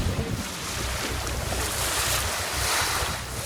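A sailboat under engine power at sea in open water, with a steady broad roar of wind, water rushing past the hull and a low motor rumble, loud and continuous and with no talking.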